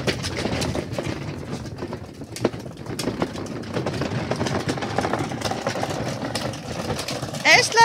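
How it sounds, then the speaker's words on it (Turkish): A child's ride-on toy tractor runs with a steady low motor hum through the whole stretch, under an adult talking in Turkish, with a louder burst near the end. "Eslem traktörüne bindi."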